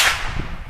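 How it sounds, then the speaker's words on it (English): A single sharp .22 Long Rifle gunshot at an outdoor target, a crack that decays quickly, fairly close. "When it comes around that crosshairs, shoot."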